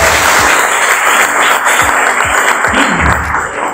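Audience applause at an MLM business seminar in Indonesia, loud continuous clapping with several low thumps in between.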